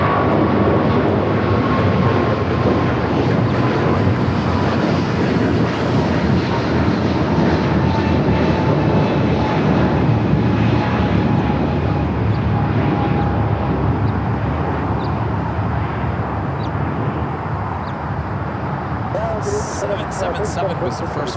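A United Boeing 777 jet roars steadily at LAX, a loud, continuous engine rumble holding throughout, with a voice talking over it.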